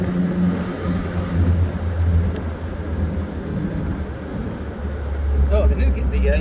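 A 1979 MG Midget's engine runs at fairly high RPM without hard acceleration, giving a steady, close rumbling drone from inside the car while people talk over it.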